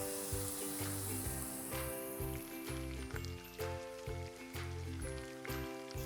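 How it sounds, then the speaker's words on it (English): Potato twisters frying in hot oil, giving a steady bright sizzle throughout, heard under loud rhythmic background music with a strong beat. "First we're going to coat it and directly place it into the hot oil."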